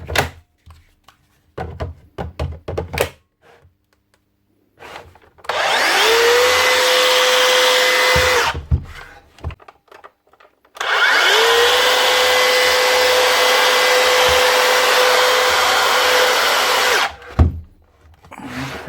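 A Makita DSP600 twin 18 V cordless plunge saw with no blade fitted spins up in two long bursts, each a steady high motor whine lasting about five to six seconds, loud and close, separated by clicks and handling noises.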